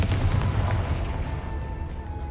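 Confringo fire spell blast in the Hogwarts Legacy video game: one loud, booming burst with deep low rumble that fades into a steady tail, with no talking.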